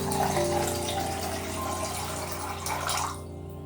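Cold water, 1.5 litres, pours steadily into a Mycook Touch food-processor jug, a continuous close splashing rush that stops abruptly near the end.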